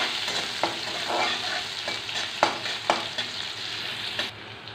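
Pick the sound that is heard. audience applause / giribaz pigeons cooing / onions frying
onions frying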